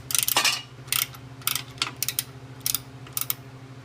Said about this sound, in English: use your 13mm, go ahead and remove the bottom bolts.